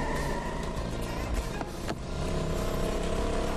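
Vasquez's car in Tales from the Borderlands, a steady engine drone with rumbling road noise from a vehicle under way, loud and continuous with a brief dip midway.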